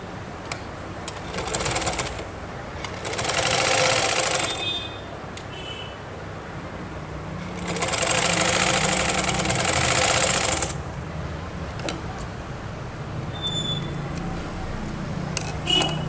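Sewing machine stitching lace onto a suit kameez, running in two loud bursts of about two and three seconds with quieter handling between.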